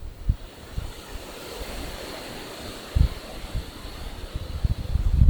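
Strong wind roars and buffets the microphone, with low thumping gusts building toward the end, loud and continuous with no voices.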